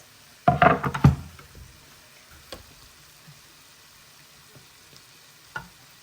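Potatoes, cashews, paneer and red pepper for veggie pulav are stirred in a hot pan: a short burst of sizzling and spatula scraping, then quiet with a few faint taps and one last small clink.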